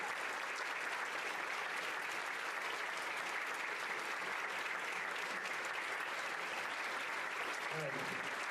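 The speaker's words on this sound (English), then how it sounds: "Let's give Ethan one more round of applause." Sustained audience applause at a sixth-grade promotion ceremony, dense steady clapping from a large crowd that continues for the whole stretch, with faint voices mixed in near the end.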